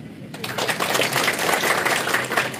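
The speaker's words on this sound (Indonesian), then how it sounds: "Tepuk tangan." Church congregation applauding during a sermon, a dense steady patter of many hands clapping that swells in after a brief quiet start and holds moderately loud throughout.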